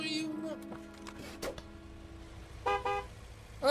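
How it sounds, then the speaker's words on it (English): Car horns honk in the video game Gas Station Simulator: a steady held honk early on, then brief toots later, all under close-up talk. "You're honking too. You're honking"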